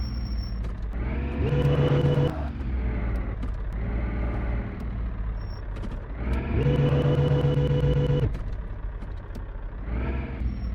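Car engine from the video game Dating Simulator, a continuous droning hum that swells twice in louder revving surges before settling back, with no voices.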